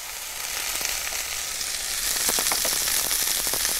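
Onion tipped into hot oil in a frying pan on a hob sizzles loudly and steadily, the hiss intensifying midway with crackling spatters, close and alone without talk.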